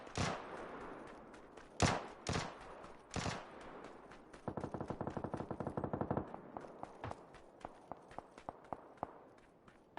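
Gunfire in PUBG on PS4: loud single shots, then a rapid, even automatic burst, followed by scattered quieter shots and footstep-like taps. No talking.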